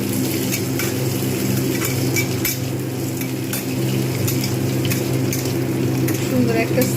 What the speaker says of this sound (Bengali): লঙ্কা, কাঁচা লঙ্কা আর নারকেল আমি যেটা টুকরো টুকরো করে রেখে দিয়েছিলাম, এটা কিন্তু আঁচ কমিয়ে ভালোভাবে আমি এটাকে ভেজে নেব।